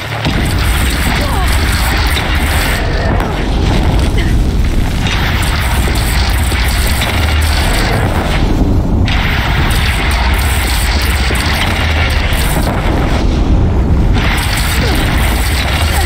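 Bridge collapsing after being shot down in Horizon Zero Dawn: a dense, continuous roar of rumbling booms and crashing debris, loud and sustained throughout, with brief breaks in the rumble.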